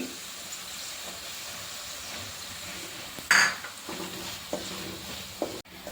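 Sautéed onions being stirred with spice powders for a carrot pickle, a quiet steady sizzle under scattered spoon scrapes and one sharp metallic clink from the pan.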